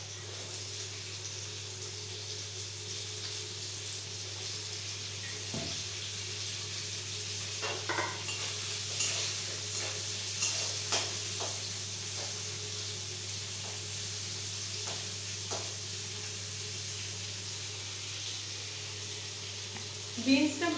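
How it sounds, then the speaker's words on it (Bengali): Beans and carrots fry in a wok for fried rice, giving a soft, steady sizzle with scattered clinks and stirring scrapes, faint and continuous throughout. "কেটে রাখা গাজর, বিনস এগুলো আমি এবার ভেজে নেব।"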